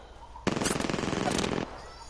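A rapid burst of automatic gunfire from a battle royale video game fires for about a second, loud and close, with a thin continuous game backdrop around it.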